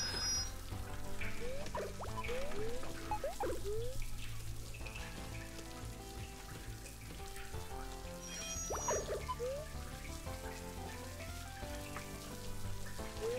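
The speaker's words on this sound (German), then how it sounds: "dann gehen wir schon mal zum Duschen" A shower running in the prison game The Escapists 2, a steady rain-like hiss of spraying water that continues throughout, mixed with light game sounds and faint background music.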